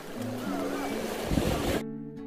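Water pouring like a small waterfall beside a lake on a rainy hill trail, a broad steady rush with wind buffeting the microphone, cutting off abruptly near the end.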